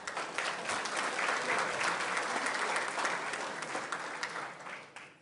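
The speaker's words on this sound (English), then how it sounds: "This man right here deserves a round of applause" Guests at a business appreciation luncheon give a round of applause, a full, even clatter of many hands at moderate loudness that tapers off slightly near the end.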